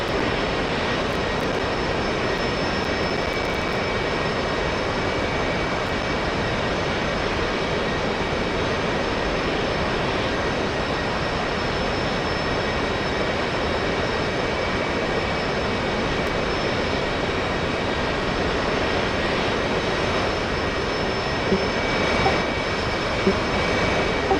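Several aircraft engines hum and roar steadily while planes taxi in an aerial raid video game, a loud continuous drone lasting throughout with no talking.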